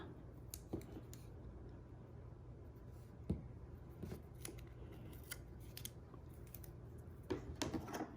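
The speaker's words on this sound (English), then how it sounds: "So I am going to add some tear and tape to the top." Tear and tape being torn and pressed onto the top of a handmade paper gift card holder, quiet crisp snips, crinkles and taps in a still room, with a few brief bursts of handling.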